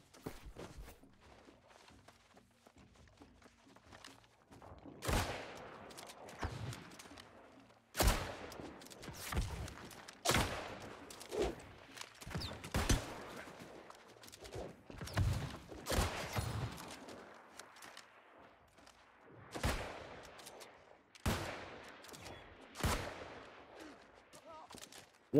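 Gunfire in the New World video game rings out as a string of sharp, well-spaced shots, loud against a quiet background, with a few footsteps between bursts.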